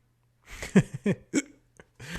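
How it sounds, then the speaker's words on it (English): Several abrupt hiccups from a person just after a fit of laughter, coming in quick irregular bursts of short, close, voiced catches with brief gaps between them. "I laughed so hard I had a hiccup."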